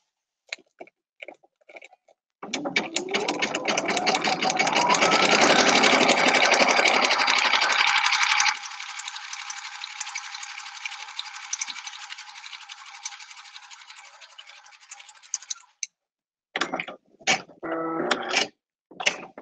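A sewing machine stitches fabric for a large vented kite, running in a loud sustained burst that changes pitch partway and then continues steadily before stopping, with a few short clicks and bursts near the end.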